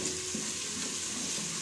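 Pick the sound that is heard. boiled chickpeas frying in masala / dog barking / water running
boiled chickpeas frying in masala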